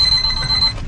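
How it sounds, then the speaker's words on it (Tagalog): A cellphone alarm rings with a loud, steady high-pitched tone that holds through the whole short moment, with no voices over it. "At kung may narinig ko yung alarm, ito yon."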